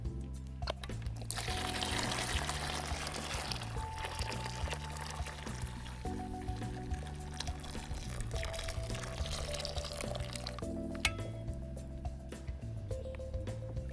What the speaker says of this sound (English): We're going to add some more hot water to this